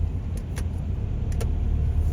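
Road traffic flows by as cars merge from the right near Seongsu Bridge in Seoul, a steady low rumble of engines and tires with a few faint clicks, no voices.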